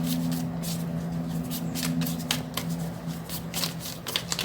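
Tarot cards are shuffled by hand in a continuous close flutter of riffles and soft slaps, with a low steady hum underneath.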